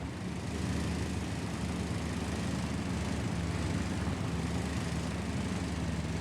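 Engine of the Concept No. 5 tank in World of Tanks, a steady low rumbling drone that runs loud and unbroken throughout with no talk.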